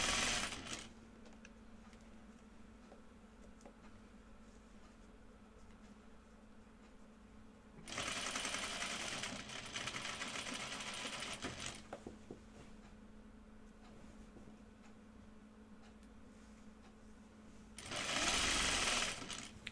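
A sewing machine hems a cardigan in quiet bursts: a few seconds of steady whirring stitching, a long pause with faint handling, then another short run near the end.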